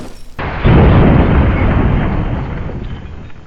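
A 40 mph small-overlap car collision in BeamNG.drive, a sudden loud crash with a heavy booming impact that fades over a few seconds.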